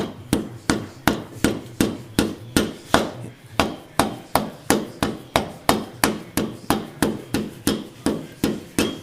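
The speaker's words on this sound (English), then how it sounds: "we just take that rubber mallet that I was using earlier, and we just tap this cap on" A rubber mallet taps a bearing cap onto a harrow wheel hub in a steady, even rhythm of about thirty sharp, close knocks, each dying away quickly, with no talking.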